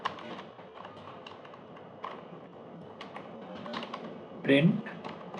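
Keys clatter on a computer keyboard in short bursts of tapping while someone types code in Python, with a voice speaking over parts of it.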